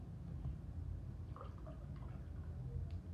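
Pepsi is poured, producing a faint liquid trickle with light splashes and drips over a low steady background hum.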